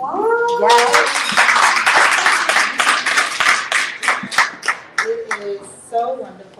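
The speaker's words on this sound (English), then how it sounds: "Can we just give her a round of applause?" Audience applause at an evening bookstore author conversation, clapping and cheers filling the room, then thinning into scattered claps while a speaker's voice rises over the fading applause.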